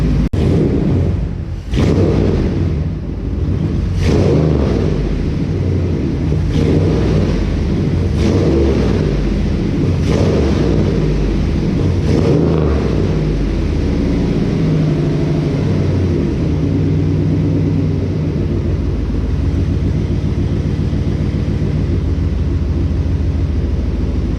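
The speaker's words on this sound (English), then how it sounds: "let's go ahead and give her a few revs for you guys" A second-generation Dodge RAM 1500 with a swapped HEMI V8 idles loud and deep, punctuated by a series of sharp revs in quick succession, heard close with no talk.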